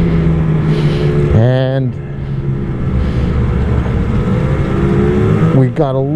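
A 2023 Ski-Doo 850 XRS snowmobile drones steadily while riding, with two sharp rising revs as the throttle opens, loud and close under a voice speaking.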